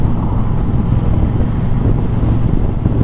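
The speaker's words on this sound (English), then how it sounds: "It's a pretty windy day" Steady, loud wind roar buffeting the microphone on a windy day while riding a 2021 Harley-Davidson 48 or 2021 Triumph Bobber Black, a constant low rumble with no distinct engine note or speech.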